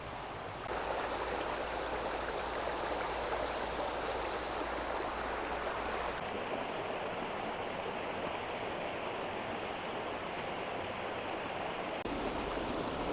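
Steady rushing water of a mountain stream, continuous and fairly close, with no voices.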